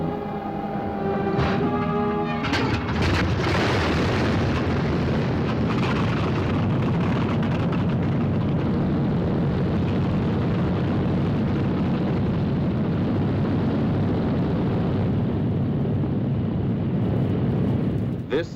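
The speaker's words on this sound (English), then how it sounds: "Only the roaring engine sound of the bombers pounding through the quiet English countryside." Droning roar of B-17 bomber engines in flight over the quiet English countryside, a loud, steady wall of sound running throughout, with a brief flurry of sharper bursts near the start.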